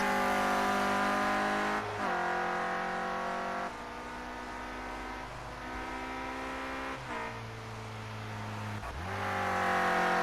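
A Renault Clio Cup race car engine drones loudly in a racing video game at Oschersleben, a sustained high rev with several sharp gear-change drops and climbs, close and steady throughout.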